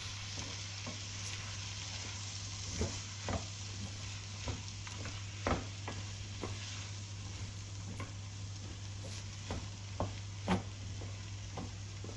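Gavar (cluster) bean curry with chopped squash being stirred in a pan over a gas flame, with a steady low sizzle and soft spoon scrapes and knocks recurring every second or so.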